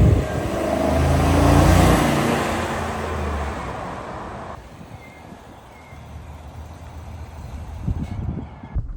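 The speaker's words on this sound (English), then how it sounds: "So let's go take this thing on a drive, see how it is out on the road, and see if this V8 is still as smooth but also powerful." Steady road and engine noise from a 2025 GMC Yukon Denali with a 6.2-liter V8 driving on the road, a broad rumble that swells early then eases to a quieter, even cruise.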